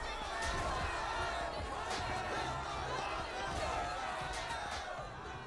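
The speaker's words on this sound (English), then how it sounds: "A battle is in full swing in your front yard. A massive crowd is furiously attacking your soldiers" A massive crowd battles soldiers in a front yard in the video game The Life and Suffering of Sir Brante, a steady, loud din of many clamouring voices with clattering impacts throughout.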